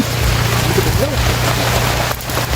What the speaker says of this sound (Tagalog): parang may pumapasok na motor dito natin